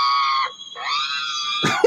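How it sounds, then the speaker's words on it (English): A whale screams in a long, high, wavering cry with a brief gap midway, rising again to a sustained tonal wail, ending in a harsh burst; no one talks over it. "Why is that whale screaming like"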